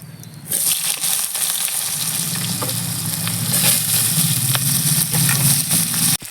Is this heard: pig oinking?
no